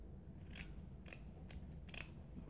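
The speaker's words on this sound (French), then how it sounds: "Donc je vais découper un petit bout de..." Scissors snip through a small piece of burlap in four crisp, separate cuts over a quiet room background, with no talking.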